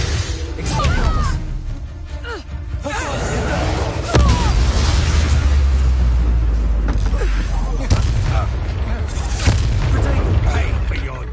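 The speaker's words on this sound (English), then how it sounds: "Explosions." Booming explosions in the Hogwarts Legacy video game, with heavy low thuds and crashes recurring across the span, mixed under talk and game sounds.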